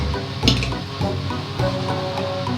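Dhokla batter being stirred and mixed in a bowl, producing wet, sloshing scrapes with a few sharper knocks, close and moderately loud.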